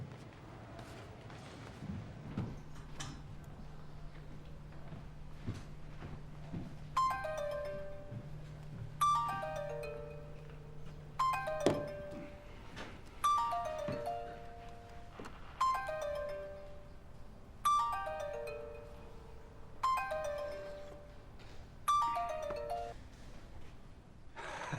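A telephone rings repeatedly during a call, a faint descending chime pattern that repeats about eight times at a steady pace after a low hum fades.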